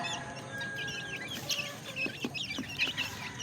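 Hungry farm chickens cluck in a restless, overlapping flurry before feeding, the calls rising in short bursts over a steady background hum, fairly close and with no talk.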